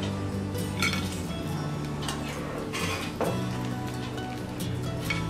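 Boiled corn pieces lifted out of a pot onto a plate, with light clinks and knocks of utensil and dishware heard close over a low steady background hum.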